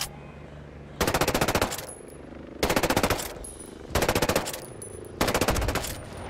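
Automatic gunfire in Ghost Recon Breakpoint, four loud rapid bursts spaced about a second apart, each a tight rattle of shots over quiet background ambience.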